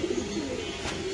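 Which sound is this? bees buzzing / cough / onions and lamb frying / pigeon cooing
pigeon cooing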